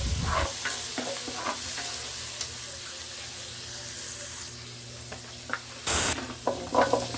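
Squash and moringa leaves are stirred in a cooking pan over a steady sizzle, with soft scraping strokes throughout and a sharper clatter near the end.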